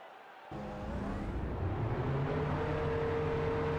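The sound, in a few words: race car engines running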